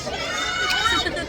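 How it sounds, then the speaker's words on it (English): A busy crowd at a game chatters and shouts, a dense close wash of many voices with a few louder calls over a short burst. "Wow, it's a lot of crowd tonight."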